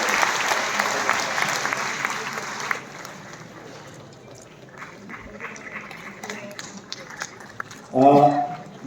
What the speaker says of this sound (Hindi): कृपया तालियों की जोरदार ध्वनि का स्वागत करें।